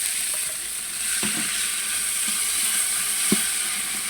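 Ginger and garlic fry in oil for beef khichuri, a steady, close hiss of sizzling broken by a couple of soft utensil knocks, with no voices.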